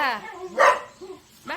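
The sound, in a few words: dog barking outside at cats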